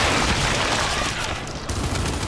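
Sustained gunfire and a grenade blast rumble through a Gears 5 co-op firefight, dense and loud for the whole stretch with no clear gaps.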